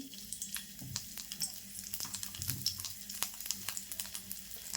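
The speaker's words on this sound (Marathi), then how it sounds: "आता फोडणीला ना जरा लसूण टाकते" Four or five garlic cloves hit hot oil for a Marathi-style tempering, crackling with quiet, rapid pops and a continuous soft sizzle close by, with no voices.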